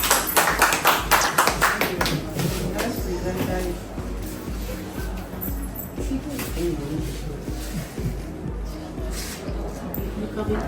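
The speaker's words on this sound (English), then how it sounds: "If not, a round of applause for him." A classroom audience applauds a student presenter, a burst of many hands clapping that is loudest at the start and then tapers into scattered claps and shuffling, with voices murmuring underneath.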